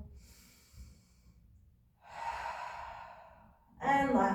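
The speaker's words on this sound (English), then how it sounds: "3 big rounds of breath here." Deep breathing during a therapy ball exercise: slow, audible exhales and inhales, close and soft, with long quiet pauses between breaths.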